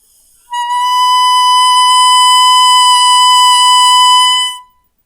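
A saxophone mouthpiece played alone holds a steady, pure buzzing tone at one pitch for about four seconds, loud and clean, then stops abruptly.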